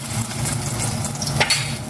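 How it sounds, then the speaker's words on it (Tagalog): Steady sizzling and crackling of ham frying in a pan, a continuous hiss with a brief clatter near the end. "Prito ko naman itong ham."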